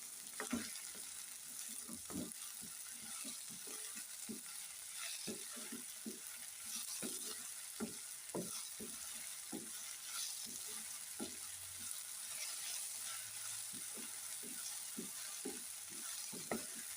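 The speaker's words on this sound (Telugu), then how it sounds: "గిన్నె తగులుతుంది అటు ఇటు." Soft scraping and bumping of a cooking pot as tender gongura leaves are stirred, irregular knocks over a quiet sizzle.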